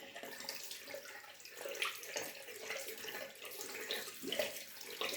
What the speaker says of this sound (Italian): Io mi trovo bene a bagnare sempre il rasoio con acqua calda prima di cominciare